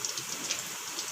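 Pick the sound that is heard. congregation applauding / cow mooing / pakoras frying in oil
pakoras frying in oil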